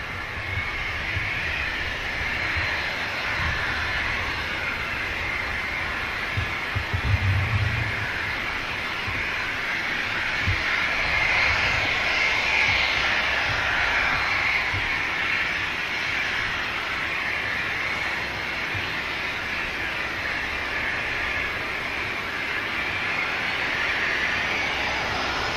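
A Saudia Boeing 787 Dreamliner touches down smoothly on the runway at Manchester Airport, a steady, moderately distant engine roar and rumble sustained throughout with no voices.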